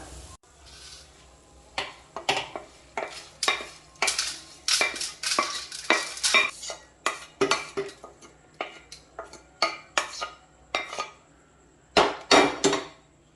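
Spices roasting in oil in a pan for Chidambaram brinjal gothsu, a faint sizzle under rapid, loud metal scraping and clinking of a spatula against the pan in uneven bursts, nearby with no speech.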